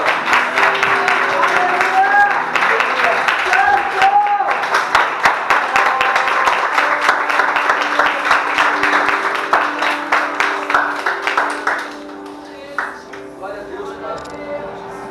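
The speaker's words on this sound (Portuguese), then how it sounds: "E neste momento, Senhor, nós Te aplaudimos" A worship congregation in a church bursts into sustained applause, dense clapping that fills the room over music and voices, then thins into scattered claps as it fades toward the end.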